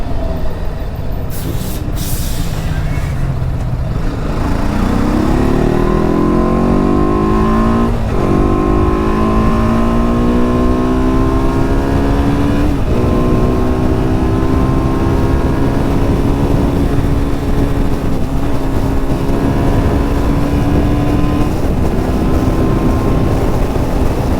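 About thirty motorcycle engines rev loudly and steadily, their pitch climbing and easing in overlapping waves, with the rumble continuing throughout.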